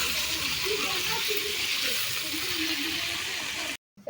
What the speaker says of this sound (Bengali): আর এই যে এখানে কিন্তু আমার তরকারি কষানো হচ্ছে।